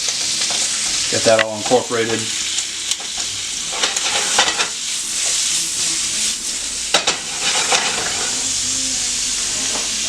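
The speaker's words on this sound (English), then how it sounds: "And it's starting to sizzle, so that's a good sign that the pan's ready to go." Steady, close-up sizzling of chorizo frying in a pan, with stirring scrapes and a short spoken remark partway through.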